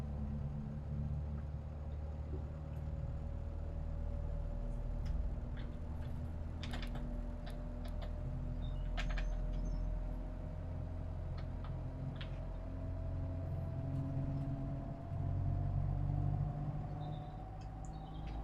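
Bus engine and ZF automatic gearbox in OMSI 2, with a steady low drone and a rising whine held throughout, a few light ticks on top, no talking.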